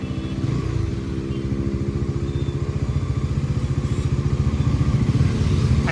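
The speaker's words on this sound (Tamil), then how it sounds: "நான் எக்ஸாஸ்ட் நோட்டும் டியூக் 390 மேட்ச் பண்ணுற மாதிரியே தான் டியூன் பண்ணியிருக்காங்க." A Bajaj Pulsar NS400Z motorcycle, its exhaust tuned to resemble a Duke 390, pulses with a rapid, even throb while being ridden, loud and close, the beat building slightly toward the end.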